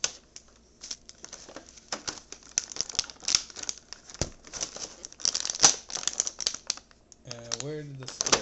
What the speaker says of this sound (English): You gotta cut the power sword out.